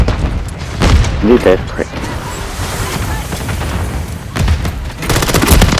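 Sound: grenade launcher explosions in video game Call of Duty

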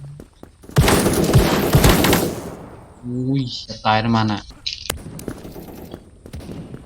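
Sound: pistol gunshots in Krunker.io video game

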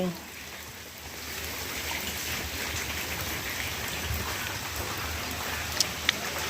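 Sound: heavy rain falling

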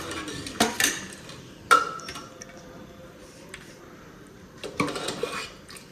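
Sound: ladle scraping pot while serving kadhi pakora

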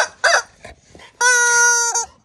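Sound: chicken clucking

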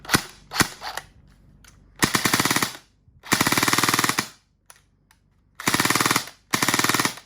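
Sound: Classic Army M4 Carbine RIS airsoft gun firing

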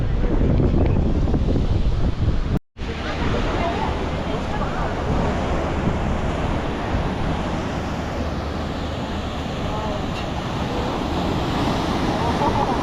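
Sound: sea waves

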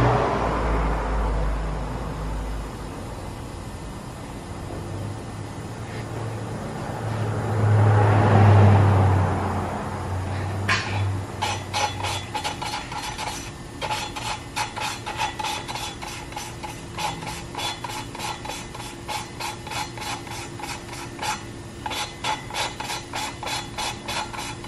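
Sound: lapping Honda K-series head valves by hand with aluminum rod

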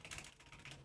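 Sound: typing on a computer keyboard

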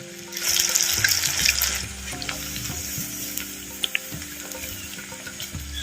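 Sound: cauliflower 65 frying in oil

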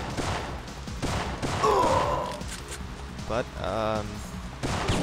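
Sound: gunfire in the Syphon Filter video game

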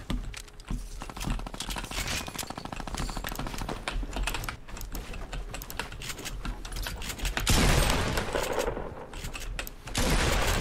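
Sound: gunfire in Fortnite Battle Royale video game

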